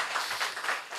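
Audience applause at a public discussion forum, a dense, steady wash of many hands clapping that carries on without a break for about a second.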